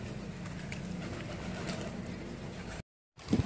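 Pigeons kept for the sport of flying pigeons coo in a low steady murmur outdoors. The sound cuts out briefly before resuming.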